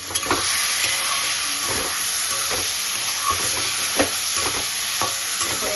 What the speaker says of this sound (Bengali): একটু সময় নাড়াচাড়া করবো